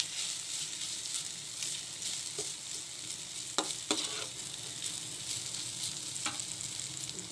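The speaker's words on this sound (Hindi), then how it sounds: "अब मैं आलू ऐड करूंगी। बस हमने इनको हल्का फ्राई करना है।" Potatoes lightly frying in a pan, a soft, even sizzle with a few sharp clicks of a spoon against the pan, fairly quiet throughout, no talking.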